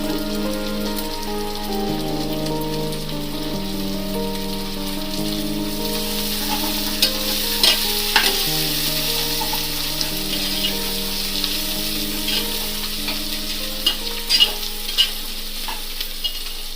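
Vegetables with coriander and mint sauté in a hot pan, giving a continuous close sizzle with occasional scraping and clinking from stirring.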